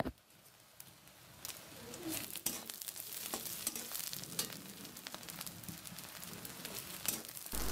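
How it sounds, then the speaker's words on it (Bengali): Chopped onions and two bay leaves frying in mustard oil while being stirred, giving a faint, steady sizzle broken by scattered crackles and small pops. "এরপর দিচ্ছি কিছু পেঁয়াজ কুচি, 2টা তেজপাতা দিয়ে ভালোভাবে নেড়েচেড়ে ভেজে নেব।"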